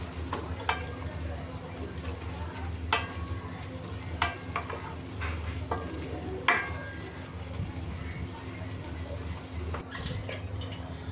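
Sweet pumpkin bhaji sizzles steadily in a pan as coriander leaves go in, with a spatula scraping and clicking against the pan at irregular intervals, close and continuous.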